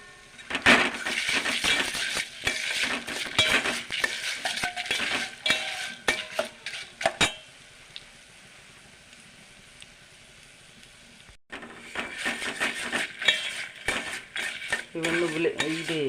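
Dried red chilies and tempering spices are stirred in a pan, giving busy metallic scraping and clinking of a utensil against the pan that pauses partway, then resumes with the same clatter.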